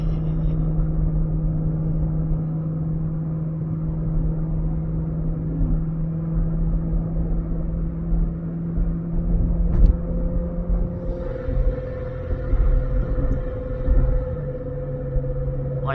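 Chevrolet Corvette C7 engine droning while driving, a steady low rumble with sustained tonal hum that shifts pitch partway through, close and continuous with no talk.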